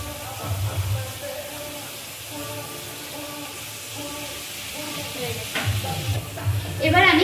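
Jhinge posto sizzles and fries in a pan while it is stirred, with a brief burst as a little water goes in near the end; the sizzle is steady and close throughout.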